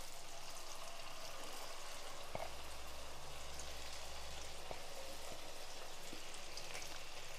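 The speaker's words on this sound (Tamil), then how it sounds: "இப்போ நம்ம பொரிச்சு எடுத்துடலாம்." Marinated baby corn pieces deep-frying in hot oil over a medium flame, a steady, dense bubbling sizzle with a few faint clicks, continuous and close throughout.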